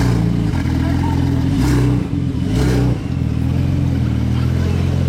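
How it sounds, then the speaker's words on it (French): Modified Porsche Turbo engine revs loudly nearby on Place du Casino in Monaco, a deep droning idle that surges in two sharp rising revs before settling back to a rumble. "Parce que la Porsche Turbo c'est ce qui lui manque. C'est un moteur qui s'entend."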